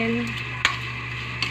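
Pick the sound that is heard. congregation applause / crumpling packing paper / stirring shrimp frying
stirring shrimp frying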